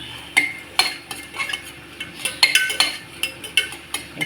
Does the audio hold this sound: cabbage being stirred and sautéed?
yes